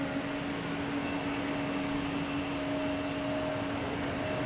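A Swiss Air A330 bound for Zurich takes off from Boston Logan, its engines a sustained, steady roar with a fixed droning hum, heard alone at a constant level.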